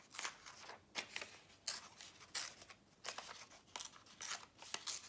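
Kraft paper envelope being torn open across the top, a series of sharp, crisp rips and crackles in short bursts, close and fairly quiet, with no talking.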